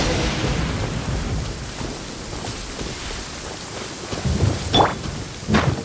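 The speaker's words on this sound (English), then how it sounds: "This rain ain't clearing anytime soon," Steady, dense rainfall pours down in the video game Genshin Impact, a continuous wash of rain with a few sharper drips and splashes near the end and no talking.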